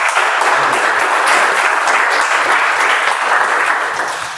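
Dense, steady applause from a Toastmasters meeting audience, many hands clapping together at close range, holding strong for several seconds before easing slightly at the end.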